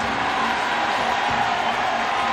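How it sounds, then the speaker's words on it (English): Crowd at a college men's ice hockey game, RPI against Mercyhurst, roars in a steady, loud wash of cheering and shouts that holds at one level through the short moment. "You can hear the delight from the crowd here on the side of the broadcast booth"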